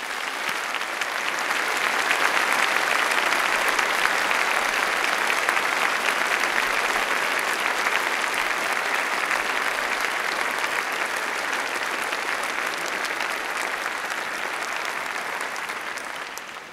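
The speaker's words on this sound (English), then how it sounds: "Please join me in giving them a huge round of applause." A large audience at a university graduation commemoration ceremony applauds at length, a thick, even roar of clapping that swells in the first seconds, holds steady and slowly thins near the end, with no talking.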